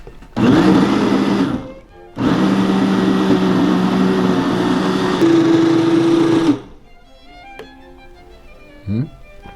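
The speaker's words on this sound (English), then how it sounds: "Let's blend it up." A blender whirs loudly as it blends a mango, fig and cucumber smoothie, running in two bursts separated by a short pause. A faint clunk comes as it stops.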